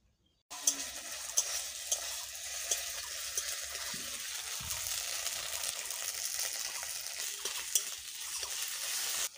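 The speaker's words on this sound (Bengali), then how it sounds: "খুব ভালোভাবে মশলা কষিয়ে নিতে হবে।" Continuous frying and stirring of ground spice paste with turmeric in a pan, a steady close sizzle with soft scraping strokes, no talking.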